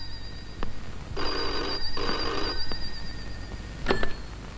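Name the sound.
telephone ringing, urgent phone call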